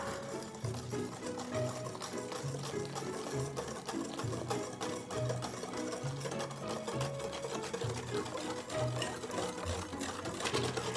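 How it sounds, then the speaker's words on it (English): Milk and heavy cream being whisked into sugar in a bowl, a quiet fast steady rattling of the whisk with a rhythmic pulsing beat, close and continuous, no voices. "As you whisk in the milk and the heavy cream"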